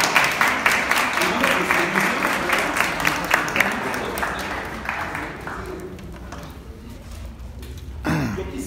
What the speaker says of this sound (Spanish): Pues pido un aplauso para los